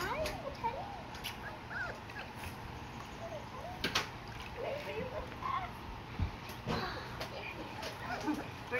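Several small yips and whimpery barks from a four-week-old Labrador retriever puppy during its first bath, short bursts scattered over a steady wet background, with people talking and cooing nearby.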